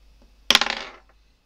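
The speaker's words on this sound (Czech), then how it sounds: "Pokud chceš, můžeme zkusit další hod kostkou, abychom zjistili, zda se mu to podaří." Dice dropped and rolled on a hard surface for a Dungeons & Dragons check, a sharp clatter followed by several rapid bouncing rattles that fade out within half a second, close and alone.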